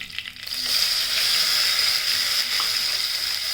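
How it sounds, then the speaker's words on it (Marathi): Green masala paste of ground coriander, green chilli and garlic sizzles steadily in hot oil for a cauliflower-and-peas dry vegetable, a loud, continuous frying hiss with faint stirring clicks and no voices. "हा थोडा तेलात परतून घ्यायचा।"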